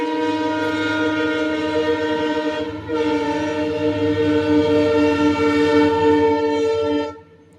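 A passing train rumbles steadily with a sustained horn blaring in harmonic tones, loud and close, briefly dipping before continuing and then cutting off near the end.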